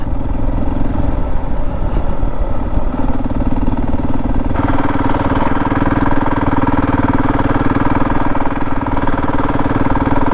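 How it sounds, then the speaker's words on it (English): Motorcycle engine droning steadily and loud in third gear on a gravel road in Croatia, a continuous rough thrum with clattering underneath and no break for the full stretch. "that's actually pretty comfortable to ride this bike in 3rd gear on the gravel road sitting"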